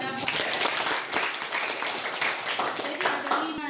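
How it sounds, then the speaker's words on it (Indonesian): A classroom of students claps in a brief, loud burst of applause with voices mixed in, close and lively for a few seconds. "tepuk tangan buat dapat"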